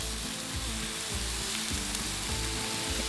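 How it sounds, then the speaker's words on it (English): Chicken skewers sizzling in olive oil on a Blackstone griddle at medium heat, a steady loud hiss of frying with faint scraping underneath, close and continuous with no talking. "I'm just going to get a little olive oil down. Spread it out and getting our skewers down."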